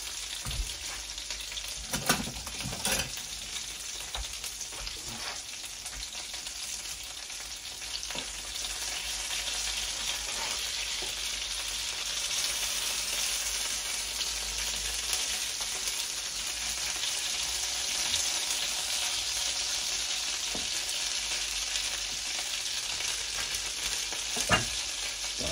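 Fish fingers fry in cooking oil with a steady, close broadband sizzle for the whole stretch, broken by a few louder sharp pops and crackles near the start and again near the end.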